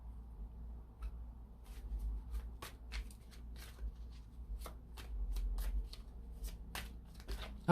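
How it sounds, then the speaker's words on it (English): Tarot cards being shuffled and pulled by hand, with a string of crisp riffling flicks and soft card slaps repeating over a quiet low hum, close and moderately loud. "So let's go ahead and get some more cards pulled here."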